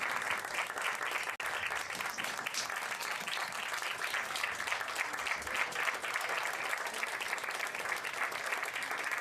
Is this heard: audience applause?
yes